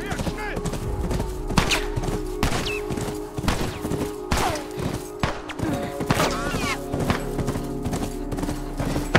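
Galloping horse hooves from The Last of Us Part I, a steady clip-clop rhythm running throughout, mixed with game sounds, bursts of gunfire and thuds, while a person talks over it.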